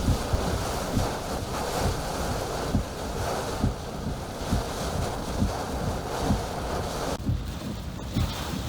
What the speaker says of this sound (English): The eye wall of Hurricane Nicholas has arrived, getting maximum gusts of just over 80 miles per hour at this point